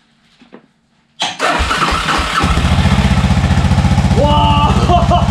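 A Suzuki DR 650 motorcycle, freshly restored, cranks for a moment and then fires up, settling into a loud, close, steady single-cylinder idle with a rapid even pulse, after a little quiet background noise.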